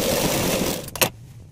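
A sewing machine stitching a lehenga's lining around the waist, a fast steady whir of needle strokes that stops abruptly after about a second, leaving quiet room tone.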